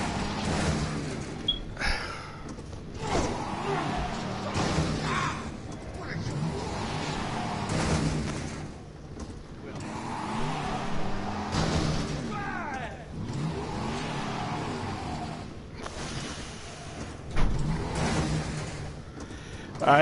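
A car engine in the video game Resident Evil 7 revs and surges through repeated accelerations and bumps while the car is driven roughly in tight spaces, with a voice talking over it.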